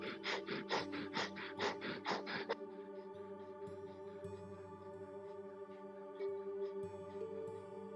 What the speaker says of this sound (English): we're going to start here with breath of fire.